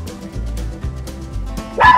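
Toy poodle, a young male, barking and yipping in a home, with repeated short yaps over a steady background and a louder whimpering bark near the end.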